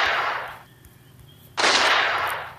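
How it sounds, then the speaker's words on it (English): Two loud, broad blasts of gunfire from the Westy West video game open and close the moment, separated by a brief quieter gap. "He shot me, but I shot him right back."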